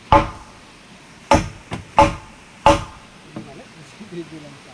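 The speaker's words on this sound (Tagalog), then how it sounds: "pukpok mo ata tabla" Wooden board being hammered while repairing a hut, four loud sharp knocks at uneven intervals, then quieter clatter and faint voices.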